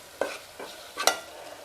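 Spices with turmeric fry in a pan while a spoon stirs them, making three or four soft scraping strokes over a faint, low sizzle.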